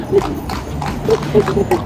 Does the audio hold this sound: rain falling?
no